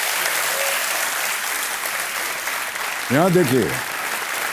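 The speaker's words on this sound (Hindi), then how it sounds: "तालियां बजती रहें इनके लिए" A studio audience on the KBC Season 9 game show claps in a dense, steady wash. A voice speaks briefly near the end as the clapping continues underneath.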